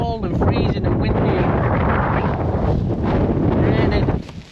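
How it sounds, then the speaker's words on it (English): Strong wind on a cold, freezing, rainy morning during a bikepacking camp, a loud continuous roar buffeting the microphone that drops away sharply at the end. "It's cold and freezing and windy"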